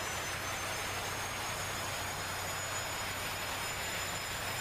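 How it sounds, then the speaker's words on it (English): Jet engines run up for a carrier catapult launch in DCS World, a steady, moderately quiet whine and roar that holds even throughout with a high tonal hum and no talking. "Get ready and run up your engines."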